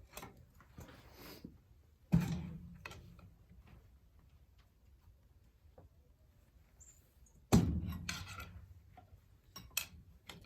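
Pry bar working under the cylinder head of a Rumely 6A engine during restoration, with two sharp metallic bangs and scattered scraping, grinding clicks between them, close and isolated.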